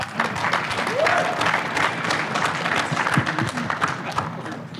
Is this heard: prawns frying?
no